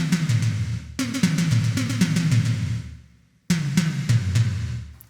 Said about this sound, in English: Then for the tom sound, I'm using the second xenophone,